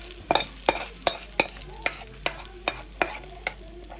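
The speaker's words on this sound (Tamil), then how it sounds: "இப்போ வந்து நாங்கள் இந்த அப்பளத்தை போட்டு பொறிச்சிருக்கோம்" Appalam (papad) frying in hot oil, with a run of sharp crackling bursts spaced roughly every half second over a steady background hiss, close and fairly loud, no voices.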